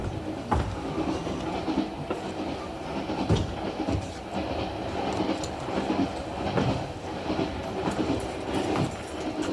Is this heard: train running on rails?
yes